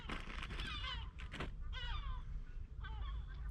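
Seagulls call at night during a seaside camp on Çıfıtkalesi Island: several wavering, squealing cries come in bursts close by, over a low background rumble.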